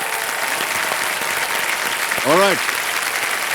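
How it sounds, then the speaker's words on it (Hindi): Studio audience on Kaun Banega Crorepati applauds the contestants, a broad steady wash of clapping throughout, with a voice speaking briefly over it near the end. "तालियां बज जाए इनके लिए"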